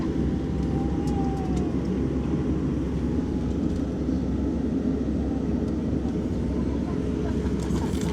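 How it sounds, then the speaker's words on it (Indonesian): Airliners queue for takeoff at an airport on an international flight, heard as a steady, loud low engine rumble that stays constant throughout with no clear breaks. "Pesawatnya pada antri untuk take off teman-teman."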